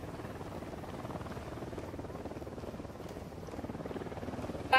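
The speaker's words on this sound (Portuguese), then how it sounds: "esse helicóptero ainda tá por aqui" Helicopter in the video game Ghost Recon Wildlands, a steady rotor chop close by that holds a constant level for the whole stretch.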